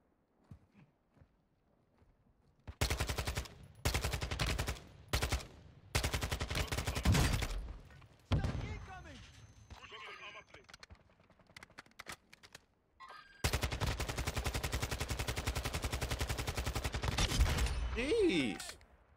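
Close, loud video-game gunfire from a recoiling gun, rapid automatic bursts separated by brief pauses, with a few quieter voice fragments between volleys.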